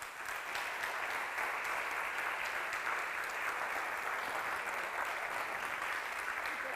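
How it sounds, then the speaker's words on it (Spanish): Sustained applause from an audience welcoming novelist María Dueñas at a Black Valladolid event, a dense steady clapping that fills the room for the whole stretch. "Un fuerte aplauso, María Dueñas"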